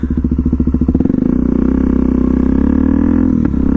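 A Suzuki DR-Z400S motorcycle engine in Mexico City, loud and close, starting with a choppy, pulsing idle for about a second, then revving up into a steady, sustained drone with a brief dip and catch near the end.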